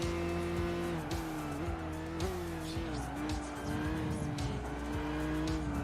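A race car in Gran Turismo 5 online racing revs hard with a loud, continuous engine whine, rising and dropping through gear shifts, while tyres squeal repeatedly through corners.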